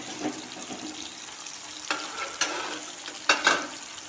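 Tomatoes sizzling in a pan while cooking fish curry outdoors: a soft steady frying hiss with a few sharper crackling bursts and stirring scrapes, close and moderately quiet.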